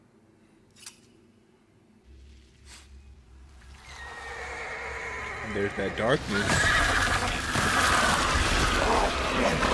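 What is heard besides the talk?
horses neighing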